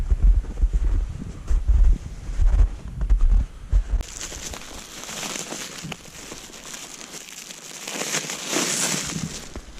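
Wind drives blowing snow outdoors in a remote bush setting, with heavy low buffeting on the microphone at first, then a hissing, gusting rush that swells toward the end.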